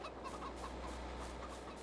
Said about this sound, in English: We got our chickens.